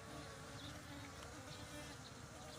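A small honeybee swarm, recently split from a larger colony, clusters at the front of a bait hive box, giving a steady, dense buzzing hum that runs unbroken and close throughout.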